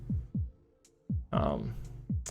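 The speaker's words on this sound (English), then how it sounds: "So we hear our heartbeat." Heartbeat sound effect from the dungeon-crawler game Dicey Dungeons: deep, close thumps in paired beats at a steady pulse, with a brief game chime and a burst of bright effects partway through.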